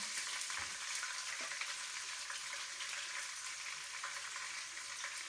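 Mutton pieces frying in hot oil until golden brown give a steady, fairly quiet broadband sizzle with faint crackles throughout and no voices.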